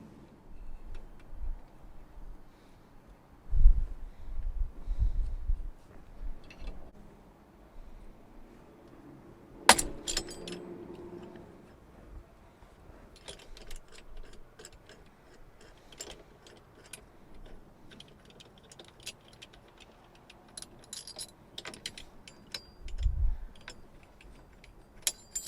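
A steering wheel puller is turned by hand on a 1991–94 Toyota Tercel, giving faint, scattered metallic ticks and clicks, with one sharp snap near the middle and a few low knocks, all fairly quiet.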